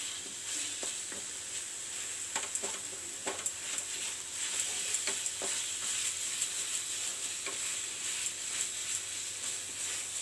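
A milk mixture for khoa peda is stirred in a pan over a medium flame: a steady soft sizzle with scattered scraping clicks from the spoon, close by and without talk.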